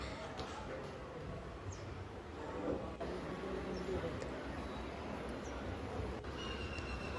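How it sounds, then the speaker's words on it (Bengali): A Kolkata metro train sits in an underground station, giving off a continuous low rumble and rolling rail noise that stays fairly loud and steady throughout, with faint high squeaks on top. "এবার আমরা মেট্রো ধরবো বলে যাচ্ছিলাম"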